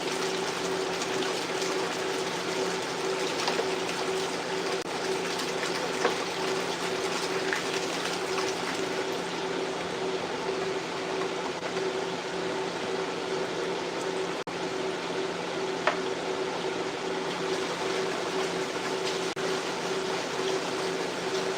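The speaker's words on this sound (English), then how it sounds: "For now, I'm just adding water." A container is filled with water during a plant nutrient routine, producing a loud, continuous gushing flow that holds steady throughout with no speech over it.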